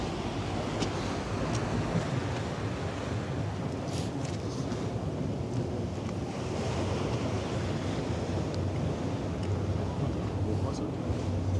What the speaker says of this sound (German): Das merkst du, wenn hier die Wellen so schlagen.